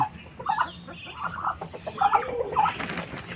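Farm roosters feeding on scattered corn in a rural yard cluck in short repeated bursts, close by and with no talk.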